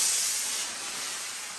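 Steam hissing from a 240-volt Chief Steamer 155 steam cleaner, a close, steady airy jet that eases slightly after the first half-second, heard alone.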